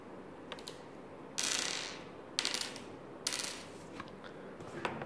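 Glass tokens from a Viticulture board game rattle and clink in several short bursts, close and fairly quiet, with small taps and clicks between the louder shakes.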